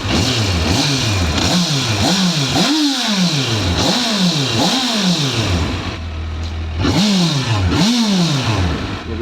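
A warmed-up 2006 Honda CBF1000A motorcycle with 48,000 km on it is revved repeatedly up close, each loud blip rising and falling back to idle in a regular rhythm, then a short pause before two more rises.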